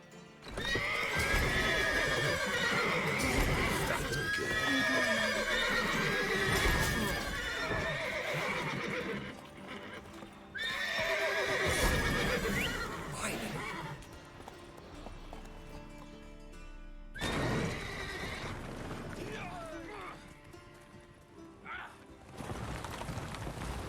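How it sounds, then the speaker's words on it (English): Horses in The Witcher 3 video game neigh and whinny loudly in repeated bursts, with clopping hooves and stamping in between and brief quieter pauses. "Gotta calm all the horses before they wake the guards."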